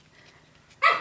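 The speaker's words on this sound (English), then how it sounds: "She's got the cutest little bark in the world." A small dog gives a single short bark near the end, sharp and fairly close after a quiet stretch of faint room sound.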